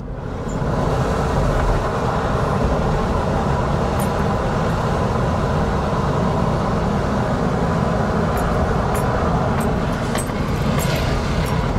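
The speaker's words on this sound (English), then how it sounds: "So the train will climb somewhat of a hill and climb over this road." Interior ride on a Purple Line light rail train near Landover Hills as it climbs a grade over a road, with a constant loud low rumble of wheels and motors and faint higher clicks and squeaks toward the end.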